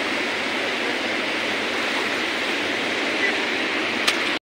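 Cold rainwater after a hailstorm rushes through farm fields in Madhya Pradesh, a steady, dense, close-up gush of flowing water that holds constant before cutting off abruptly, with no talking.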